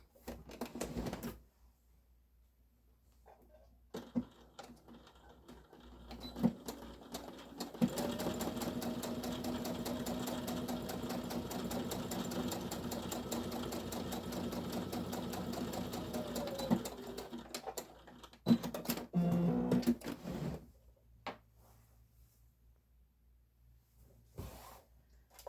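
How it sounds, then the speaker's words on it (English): A sewing machine runs steadily for around ten seconds, stitching across the boxed corner of a fabric bag, with short bursts of stitching and handling noises before and after in a quiet room. "And then you will sew that line from one"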